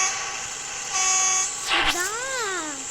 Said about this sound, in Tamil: இப்போ ஹார்ன் அடித்தா உங்களுக்கு கேட்குமான்னு தெரில.